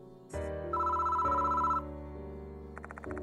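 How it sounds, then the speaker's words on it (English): A telephone rings in the horror adventure game Death Mark 2 at Konoehara Academy at night, a bright repeating electronic ring over a steady low musical drone, with a second burst of rapid rings near the end. "Why is the phone ringing now?"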